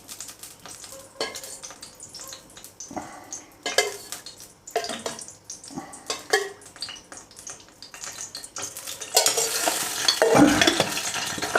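Oil heats in a pan for the tempering of roasted poha chivda, with a spoon stirring and scraping in intermittent bursts. A louder, continuous sizzle swells up near the end.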